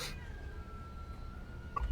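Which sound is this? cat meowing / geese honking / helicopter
cat meowing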